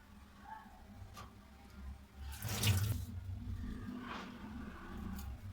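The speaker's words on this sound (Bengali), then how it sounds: "সব কিছু ভালো করে আবারও ধুয়ে নিলাম" Fish rinsed under a running kitchen tap, a steady rush of water splashing into a sink, swelling louder midway with soft handling noises and no talk.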